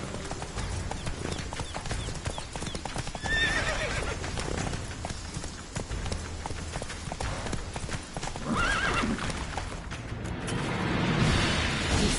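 Rapid hoofbeats of a galloping horse in The Witcher 3 with a loud whinny partway through, set against a dense, busy background of game effects and rumble.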